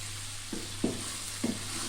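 Okra (bhindi) fries gently in a pan, a soft, steady sizzle with three brief scraping stirs, faint and close, no voices.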